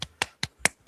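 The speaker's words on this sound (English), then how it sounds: "can you clap your hands?" Five sharp hand claps at an even, quick pace, close and fairly quiet, with brief silence between each.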